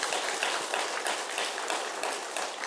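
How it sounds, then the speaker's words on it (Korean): A church congregation applauding during a Sunday worship service, a dense, even patter of many hands clapping together, moderately distant and sustained throughout without talk. "박수하겠습니다."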